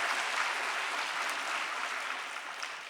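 Church congregation clapping together during a sermon, a brief burst of dense applause filling the hall and fading slightly toward the end.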